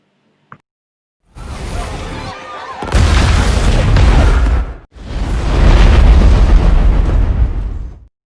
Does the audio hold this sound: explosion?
yes